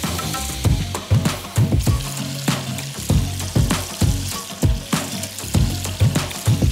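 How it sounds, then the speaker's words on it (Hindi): Butter-enriched mutton karahi stirred and sizzling in a wok, with steady frying hiss and repeated scraping strokes of a spoon against the pan at a regular rhythm, close and fairly loud. "सो सिंपली मक्खन शामिल करने के बाद इसको थोड़ा सा मिक्स करेंगे"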